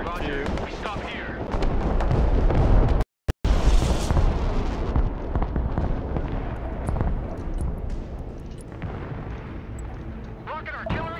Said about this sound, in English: Rocket artillery at your disposal, sir.